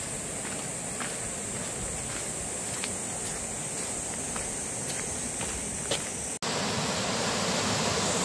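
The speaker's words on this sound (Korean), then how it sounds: "물소리 들리시나요?" Stream water rushing through Jugwangsan's Yongchu gorge, a dense steady broadband roar heard close with faint rhythmic ticking over it, briefly cut near the end before resuming.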